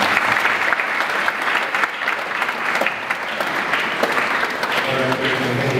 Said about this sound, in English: Shall we continue clapping for the children?